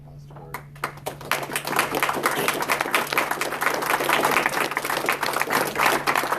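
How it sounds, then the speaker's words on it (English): Audience applause for a university panel on reparations at the University of Chicago builds quickly into steady, dense clapping that carries on to the end. "Do we want to give a round of applause"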